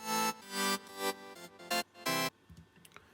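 A Sylenth synthesizer patch with its low end EQ'd out, made for a future house drop, stabs out short loud chords in a choppy rhythm, followed by a quiet tail.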